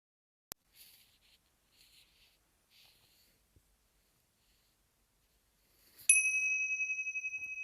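A meditation bell is struck once after a long hush, giving a bright, clear tone that rings on and slowly fades with a gentle pulsing shimmer, preceded by a sharp tap and soft rustling.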